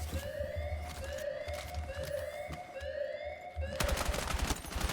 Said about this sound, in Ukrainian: А він звідти стріляє.